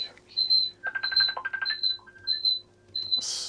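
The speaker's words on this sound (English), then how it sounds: "I think there's something ringing here." A phone ringing indoors, with a repeated high electronic trill in several short bursts and pauses, fairly close and clear, with faint voice-like sounds in between.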